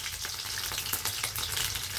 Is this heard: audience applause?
no